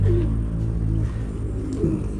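Homing pigeons cooing close by at a loft, low soft repeated coos layered over each other throughout, fairly loud with no talk.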